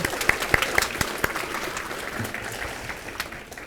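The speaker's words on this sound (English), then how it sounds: "Can we give them a round of applause?" Crowd applause at Foster Elementary School's 50th anniversary celebration for the Sayad brothers' performance. Several sharp, close claps stand out at the start over a steady wash of clapping that thins gradually toward the end.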